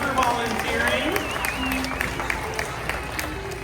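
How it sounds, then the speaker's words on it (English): An audience at an outdoor bird show claps and cheers for a young volunteer, a steady wash of applause with a few whistles, while a presenter's amplified voice carries over it. "Let's have a nice round of applause for volunteering."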